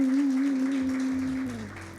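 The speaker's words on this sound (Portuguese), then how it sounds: "Uma salva de palmas bem calorosa para os nossos visitantes." A church congregation applauds its visitors with warm, diffuse clapping that fills the hall. A steady low sustained tone holds underneath, and the applause fades toward the end.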